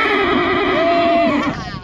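A horse on the beach at Essaouira, Morocco gives a loud, close whinny that rises and wavers before trailing off, with no talk over it.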